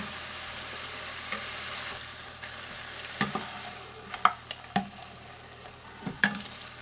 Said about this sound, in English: In this pan, I have 1 pound of ground beef.